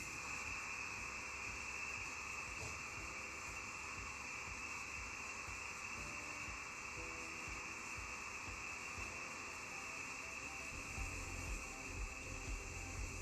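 Compressed air rushing through a pneumatic actuator as its air supply valve opens, a steady broadband hiss that holds for the whole stretch with no clear start or stop, faint and even, with no voices.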